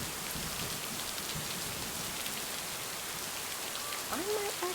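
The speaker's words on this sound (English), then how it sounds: "Stand in the fucking rain." Rain falling in the video game Lake, a dense steady hiss of drops pattering on surfaces, with a faint brief voice near the end.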